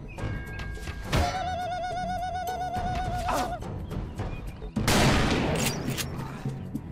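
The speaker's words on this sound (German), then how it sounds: "Wer schießt hier?" Gunfire in the Western shooter Call of Juarez: Bound in Blood: repeated sharp shots and thuds amid game music and effects, with a loud burst of firing near the end.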